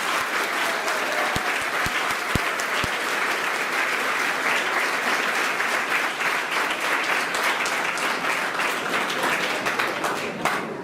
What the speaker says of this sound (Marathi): एकदा सर्वांनी जोरदार सर्व शिक्षकांसाठी टाळ्या वाजल्या।